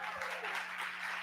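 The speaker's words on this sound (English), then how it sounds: "Warm applause for him." An audience at a TEDx event applauds with a brief, dense wash of clapping that stays fairly even from start to finish.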